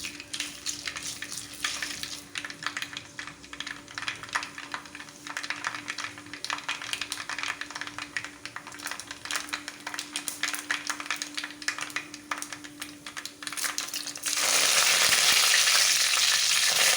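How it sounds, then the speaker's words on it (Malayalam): Mustard seeds pop and splutter in hot oil for a Kerala chena mezhukkupuratti, a busy close crackle of small bursts. Near the end it swells into a louder, broader hiss as curry leaves hit the oil. "കടുക് പൊട്ടി കഴിയുമ്പോൾ നമുക്ക് കുറച്ച് കറിവേപ്പില ഇട്ട് കൊടുക്കാം."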